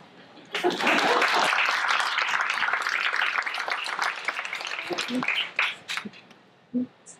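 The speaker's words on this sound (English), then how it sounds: "You can applaud." Applause from a conference audience swells quickly and holds as steady clapping, then thins into scattered claps, with a few voices speaking briefly near the end.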